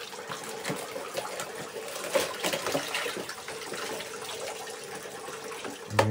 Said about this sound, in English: Filled that bathtub with the coldest water we could.